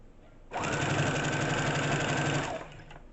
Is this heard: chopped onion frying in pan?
no